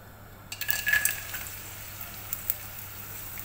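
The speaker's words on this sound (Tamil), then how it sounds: "இன்னும் கொஞ்சம் நெய் சேர்த்துட்டு நம்ம கிஸ்மிஸை வறுத்துக்கலாம்." Raisins hit hot ghee in a pan and burst into a close crackling sizzle. A few sharp pops and stirring clinks follow, and the frying then settles into a softer, steady fizz.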